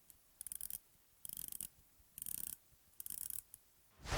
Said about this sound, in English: And here is how this bezel sounds.